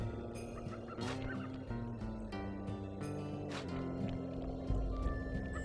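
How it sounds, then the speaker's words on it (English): A bird in the video game Sly Cooper 2 gobbles like a turkey, a series of loud, close, throaty calls with sharp bursts, over game music and background sound. "So this bird needs to just piss off."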